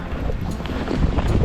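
Wind blowing while snowshoeing in the cold Adirondacks, a loud rough gusting rush buffeting the microphone with low rumble, no voices heard.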